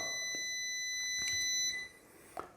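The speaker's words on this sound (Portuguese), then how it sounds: "temos então o som demonstrando que há continuidade entre dois contatos" A multimeter's short, steady continuity beep between two electrical contacts sounds for about a second and a half, then stops, leaving quiet room noise.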